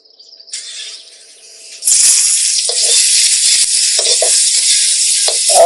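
Four or five red chillies dropped into very hot oil: after a quiet start, a loud, sudden hiss bursts up and keeps crackling steadily close by, with a few sputtering pops.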